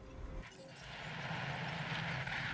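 Helicopter in the Jurassic World Evolution video game, a steady whirring rotor and engine hum that builds slightly and holds at moderate, fairly faint level throughout.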